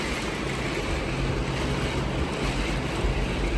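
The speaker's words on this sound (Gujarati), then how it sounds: "બાજુનો પવન છે" Side wind blowing past a slider, a continuous broadband rushing roar that stays loud and unbroken to the end.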